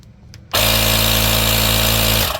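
A Topdon V2200 portable air compressor kicks on abruptly after a brief quiet moment, running with a loud, close, steady motor hum and buzz before starting to wind down at the end.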